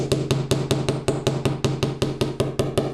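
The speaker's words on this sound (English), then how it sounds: "now I'm going to start hammering the section, the middle section of the blank" Sharp, evenly spaced hammer blows ring on a metal earring blank, about a dozen strikes falling in a steady rhythm, loud and close.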